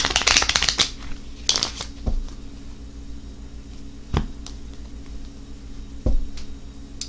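Tarot cards being shuffled and handled for a reading, a burst of riffling at the start followed by a few sparse card taps and slaps, close and quiet with no talk.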